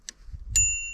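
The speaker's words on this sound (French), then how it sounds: "Une petite sonnette, parce que c'est toujours bien quand on croise les gens" A small bell mounted on a mountain bike rings twice, a quick faint ding followed by a brighter strike that rings on, over low rumbling outdoors.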